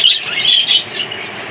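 A pair of rainbow mutation budgerigars, one sitting on eggs, give loud, close, high chattering chirps in quick bursts that ease off toward the end.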